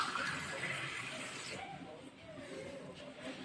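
Water pours steadily into a cup, a bright trickling rush that fades after a moment, with quiet background sounds following.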